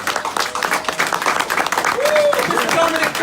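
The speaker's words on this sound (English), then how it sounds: "let's give that a round of applause" A live audience applauds Dominic Curry's segment at an Amateurs vs Professionals event, with dense, continuous clapping and a few voices mixed in.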